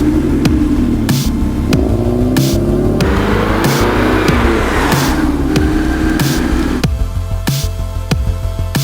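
A Porsche 944 Turbo drives on mountain roads near Lake Tahoe, heard from inside as a steady, close engine drone and throb that stays loud for the whole stretch, with road rumble and slight changes in pitch.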